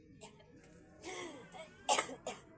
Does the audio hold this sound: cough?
yes